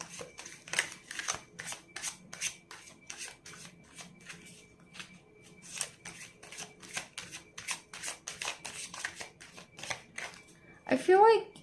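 Tarot cards being shuffled by hand, a steady run of crisp riffling flicks and slaps close by, ending in a brief louder rustle as the deck settles.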